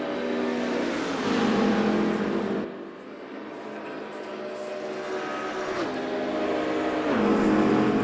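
Race cars in a racing video game, a Corvette among them, roar past with a continuous loud engine drone that rises and falls as gears shift and cars climb through the field.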